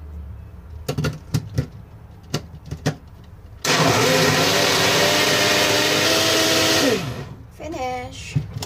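A kitchen blender whirs loudly for about three seconds, blending cut plum pieces with half a cup of water, after some brief knocks and clatter; the motor's pitch shifts as it runs, then it cuts off abruptly.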